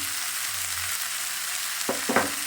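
Turmeric, Kashmiri chilli powder and red chilli powder frying in oil with koi fish for a curry with cauliflower and potato, giving a constant close sizzle with two sharp stirring scrapes near the end.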